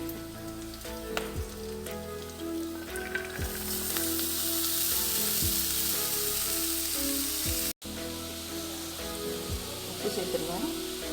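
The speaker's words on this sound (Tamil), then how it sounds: "கருவேப்பிலாம் சேர்த்து நல்லா வதக்கி விட்டுட்டு கேரட் சேர்த்துக்கலாம்." Steady sizzle of curry leaves and carrot sautéing in hot oil in a pan, fairly quiet and constant, with occasional stirring clinks and a voice speaking briefly.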